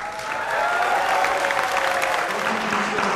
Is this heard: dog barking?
no